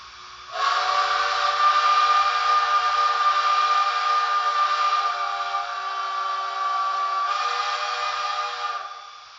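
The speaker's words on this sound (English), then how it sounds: "So this should be the whistle." Märklin SNCF series 141 R model steam locomotive sounds a sustained, bright, breathy whistle with hiss that starts abruptly, holds steady for about nine seconds with a slight dip partway, then cuts off cleanly.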